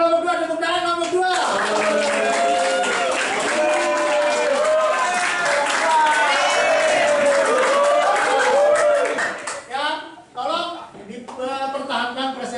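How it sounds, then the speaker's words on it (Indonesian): Classroom students at a state high school clap for a presenting group, the clapping blending with lively chatter and overlapping voices before fading into scattered talk near the end. "Tepuk tangan kelompok 2"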